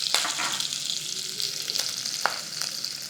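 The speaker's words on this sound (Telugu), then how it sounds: "ఈ పప్పులు వేగగానే 2 పచ్చిమిర్చి చీరేసాము, కరివేపాకు, ఒక చిటికెడు పసుపు." Lentils frying in a pan with split green chillies, curry leaves and a pinch of turmeric for a drumstick curry, giving a close, steady crackling sizzle with a few sharp pops and spatula taps.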